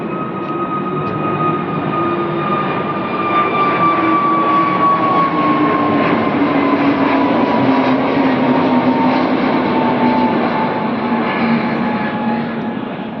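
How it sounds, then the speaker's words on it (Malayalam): A steady, loud engine roar of an airplane flying overhead near an airport drones throughout with a slowly falling tone, continuous with no talking. "അങ്ങോട്ട് നോക്കിക്കോളൂ, ഒരു ഫ്ലൈറ്റ് വരുന്നുണ്ട്"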